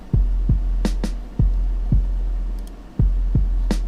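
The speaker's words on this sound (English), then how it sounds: "on these toms, I added a harmonic distortion engine" Tom drums run through a harmonic distortion engine with slight filtering and lo-fi delay for an 80s feel, hitting in an uneven pattern of thumpy, saturated strikes over a steady low hum, with a couple of bright crashes.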